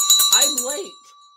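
A closing bell for the stock market rings in repeated bright metallic strikes for about a second, then fades into a ringing tail.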